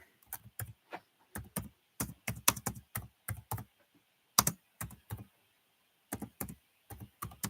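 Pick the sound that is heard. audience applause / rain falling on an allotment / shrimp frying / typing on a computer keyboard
typing on a computer keyboard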